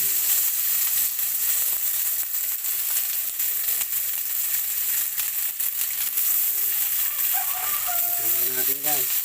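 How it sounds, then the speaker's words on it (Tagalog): Chop suey ingredients with shrimp sauté in a hot pan, a steady close sizzle and frying hiss running throughout, with occasional stirring and a voice speaking briefly over it near the end. "Igisa muna natin guys. Para magkulay ano."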